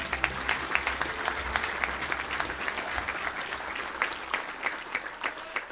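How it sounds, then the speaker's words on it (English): A crowd at an awards banquet applauds steadily, the clapping dense and sustained at an even level for several seconds. "another big round of applause for your 2018 college"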